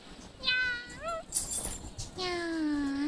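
An anime catgirl voice from the Nekopara OVA imitates a cat with several short high-pitched meows, then a longer drawn-out "nyan," close and clear with a brief breathy rustle between them.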